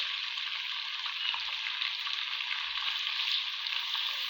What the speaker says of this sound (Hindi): अब हम इसमें डाल देंगे 1 टेबल स्पून लहसुन अदरक का पेस्ट